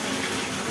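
Water gushes steadily into a water tanker that is being filled by hand without a pipe, a close, continuous rushing splash with no voices.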